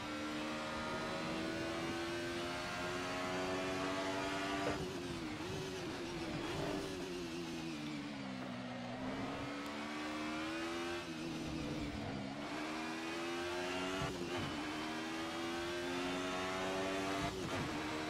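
Race car engine in a sim racing game, a 90s DTM touring car at Silverstone, droning loudly and continuously as revs rise and dip through gear changes and throttle roll-on, with no talk.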